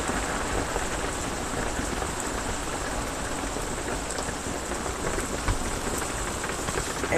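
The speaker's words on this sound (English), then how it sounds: "We're getting good rain now." Steady, dense rain falls during a thunderstorm in the Carolinas, a close, continuous hiss and patter at even loudness with no clear thunder and no one speaking.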